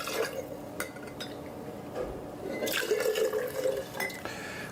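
Cranberry juice pours into a citron vodka cocktail, a short liquid fill with gurgling and splashing alongside faint clinks of glassware, fairly close and without talk.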